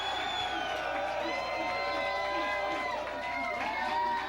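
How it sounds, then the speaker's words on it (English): A 1990 television talk-show studio audience cheering, with whoops and shouts blending into a loud, sustained crowd roar that carries on without a break. "let's send them a big cheer"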